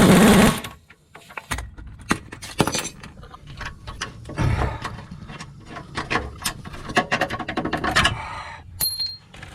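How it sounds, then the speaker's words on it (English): Impact gun removing the lower control arm bolts on a Dodge Ram van, with short sharp bursts of hammering and clattering wrench hits between quieter clanks of tools and parts, close by in a garage. "You got a little swivel on this one so I can get my gun in there."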